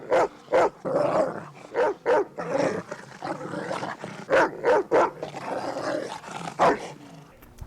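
A dog in a film barks in sharp repeated bursts with growling between them, loud and close, with a brief spoken word over it.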